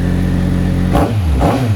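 A motorcycle engine with a completely flat battery, given a jump-start from a car, runs with a steady hum, then coughs and revs in two rough surges as it struggles to keep running.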